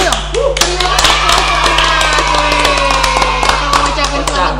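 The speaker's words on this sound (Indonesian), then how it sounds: "tepuk tangan dulu dong." A few people clap sparsely in a small group, with scattered sharp claps and taps standing out over a steady low hum, while voices talk throughout.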